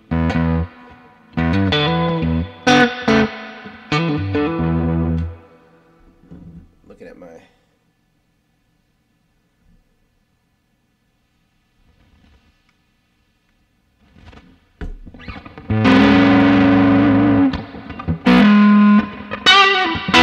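Heavily distorted electric guitar chords in loud bursts, a long quiet gap in the middle, then a sustained fuzzy riff returns close and loud.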